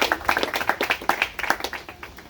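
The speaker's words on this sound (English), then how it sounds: "So go ahead and give yourselves a round of applause." A group of about twenty people gives a round of applause, with brisk overlapping claps at close range that thin out toward the end.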